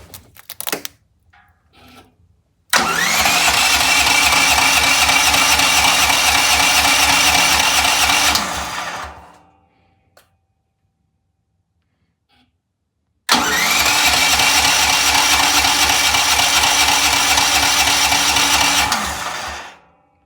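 A Westinghouse home generator starts at the push of a button: brief clicks, then the engine catches and runs loudly and steadily for several seconds, shuts down, and after a silent gap starts and runs again before stopping.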